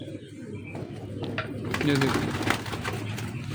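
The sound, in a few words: pigeons cooing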